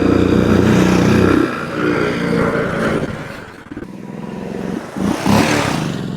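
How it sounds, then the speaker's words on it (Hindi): A 2012 Royal Enfield Classic 500 single-cylinder motorcycle with stock exhaust thumps at idle up close, then its exhaust note fades and returns as the bike moves off and revs again. "एक बार इसका साउंड चेकआउट करो, स्टॉक साउंड है, दूर से कैसा आता है"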